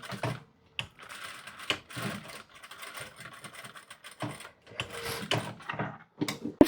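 Sewing machine stitching a short half-centimetre seam on a Chanel-style jacket lining, quick bursts of rapid mechanical clatter separated by brief pauses, close and fairly quiet.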